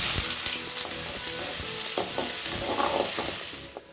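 Onion and tomato frying in a pan with mustard seeds, lentils and dried red chillies, a steady close sizzle broken by scraping stirs and clinks of a spatula, with no voices.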